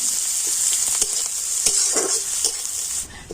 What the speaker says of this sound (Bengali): তো এবার আমি সব কিছু একটু লাল করে ভেজে নেব।